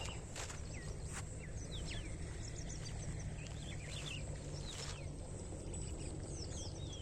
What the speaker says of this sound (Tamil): தண்ணி சவுண்டு காதில் கேட்டுகிட்டே இருக்குங்க.